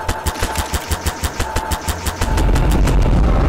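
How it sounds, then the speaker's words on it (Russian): Repeated cannon shots from a cannonball-firing gun in Garry's Mod sandbox, booming in a steady rapid rhythm for about two seconds, then giving way to a dense, loud rumbling roar. "Эта пушка стреляет пушечными ядрами"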